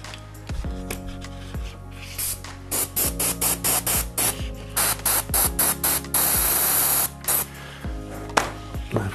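An airbrush sprays Badger Spray Thru lubricant in a series of short, sharp hissing bursts with small clicks and pauses between them, loud and close.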